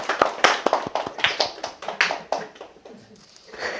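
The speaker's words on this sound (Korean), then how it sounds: "우리 서로 박수로 격려하면서" A church congregation at a Sunday worship service claps together in welcome, a sparse, uneven patter of hands that thins out toward the end.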